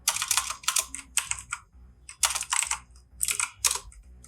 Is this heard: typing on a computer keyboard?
yes